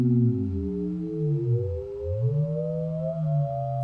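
Ring modulation algorithm on a Mutable Instruments Braids oscillator in a modular synth: smooth gliding tones that bend down and back up in parallel, like whale calls, moderately loud and alone.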